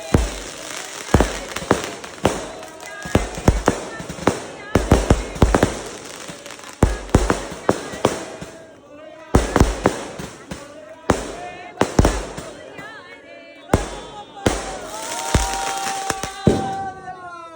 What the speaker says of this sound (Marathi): मस्त फटाक्यांची आताशबाजी होत होती